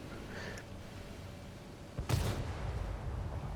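A single tank gun shot in the World of Tanks: Modern Armor video game, one sharp booming blast midway that rings out briefly over quiet game ambience.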